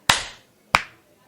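Two sharp, close hand claps about half a second apart, from two people trying to clap in unison after a countdown, each crisp and alone with a short decaying tail.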